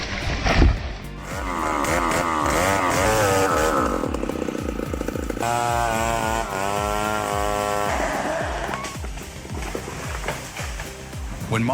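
A self-assembled chainsaw similar to a Stihl 070 cuts timber, its engine snarling loudly and steadily, with revving shifts in pitch as it bites into the wood and an occasional voice underneath.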